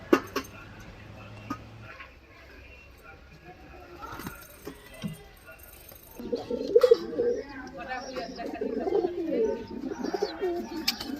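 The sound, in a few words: pigeons cooing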